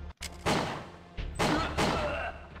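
Gunfire in the video game Winback Covert Operations comes as a few heavy, booming shots with short echoing tails, loud and close, spaced about a second apart.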